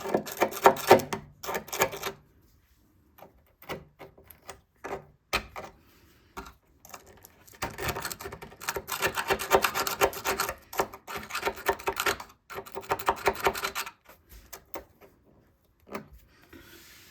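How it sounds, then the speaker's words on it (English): A small screwdriver scrapes and pokes at loose rust on the body of a Mazda MX-5 NC Mk3 Miata, close-up bursts of gritty scratching and rasping separated by short pauses. "poke around in there to scrape off the loose bits"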